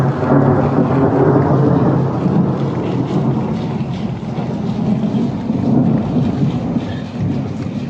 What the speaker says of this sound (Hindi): बिजलियाँ चमक रही है, बादल गरज रहे हैं